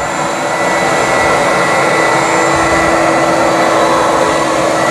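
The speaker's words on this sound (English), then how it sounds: "It doesn't really take much for this Bissell to get the carpets clean." Steady, loud motor roar and suction whine of a Bissell Big Green carpet cleaner running continuously and close while deep cleaning carpet, with no voices.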